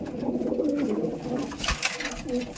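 Racer pigeons in a loft give soft, close, overlapping coos and throaty murmurs throughout, with a brief rustle near the end.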